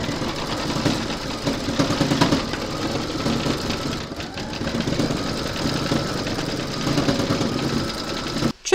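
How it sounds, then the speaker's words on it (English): An embroidery machine stitches the outline of trees in olive green thread on a gingerbread house design, a continuous close mechanical whirring chatter with slight dips in level throughout. "Load your thread colour for the trees into your machine, and then you're going to stitch round number 34"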